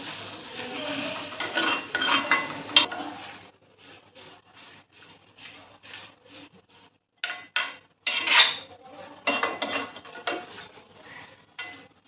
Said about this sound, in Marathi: हे आपल्याला तेलामध्ये परतत राहायचं